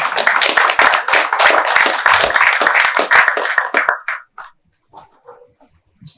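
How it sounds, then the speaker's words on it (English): Audience applause at a book launch as the deputy mayor of Fingal County Council walks up, a dense burst of many hands clapping that fades out after about four seconds, followed by a few scattered claps and small sounds. "let's applaud for him as he walks up to say a few words."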